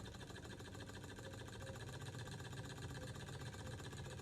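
A small restored Stirling engine runs steadily with a fast, even mechanical whirr and faint ticking, quiet and continuous with no talk.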